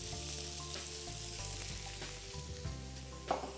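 Bacon and thinly julienned Texas sweet yellow onion fry in a hot pan, giving a steady close sizzle and crackle throughout with a faint stir or clink near the end and no voices.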